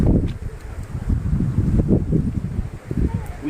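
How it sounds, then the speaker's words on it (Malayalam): Strong wind gusting at a hilltop viewpoint in Ooty, a steady low roar with rustling buffets swelling and easing throughout, loud and close on the microphone with no voices. "നല്ല കാറ്റുമാണ്"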